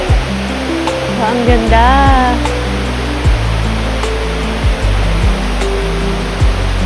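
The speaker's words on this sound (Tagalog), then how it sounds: "Kita mo yung falls, ang ganda niya, oh." Dampalit Falls beneath Mt. Makiling pours with a loud, steady rushing roar of water filling the whole scene, while people chat nearby and footsteps or knocks thud intermittently.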